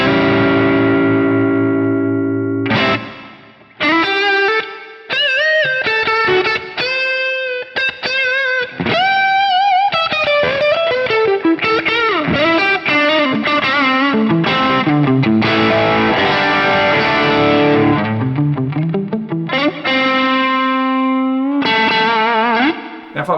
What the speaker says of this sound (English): So I'll let you hear it with and without the reverb.